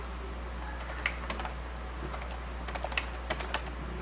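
Close keystrokes on a computer keyboard while card text is edited, scattered clicks in small bursts over a quiet steady hum, no talking.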